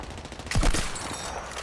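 A sniper rifle shot lands a headshot in Battlefield 6 on Wake Island: a single sharp, punchy report with a booming low thump and a short echoing tail, heard against quiet game ambience.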